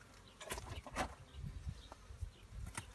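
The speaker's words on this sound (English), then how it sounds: "you can see there are lots of bees inside coming up from the hive to eat the fondant" Honey bees hum and buzz at a hive during the year's first inspection, the faint drone rising in a few closer swells as individual bees pass near, with no talk.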